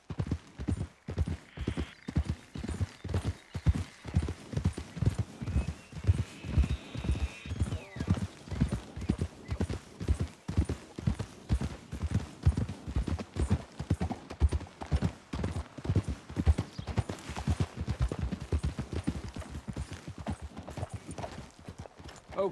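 Horses clip-clop in Red Dead Redemption 2, a steady, fairly loud run of hoof beats on hard ground throughout, with a brief snort or whinny early on.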